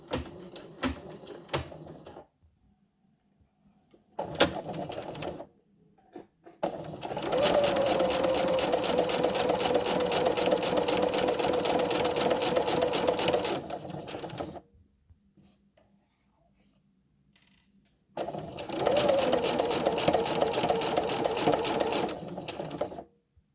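Sewing machine running in two long, steady bursts of stitching along a seam on a two-sided dress, with short start-stop runs and quiet pauses between them.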